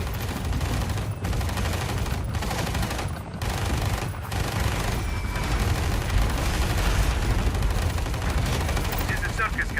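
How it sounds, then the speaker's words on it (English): Dense battlefield fire in Tom Clancy's EndWar: bursts of gunfire and heavy artillery thuds crowd a constant loud rumble, with occasional sharp gaps, while radio-style unit voices talk over the combat. "Opening fire. This is Circus Cannon. Attack is effective."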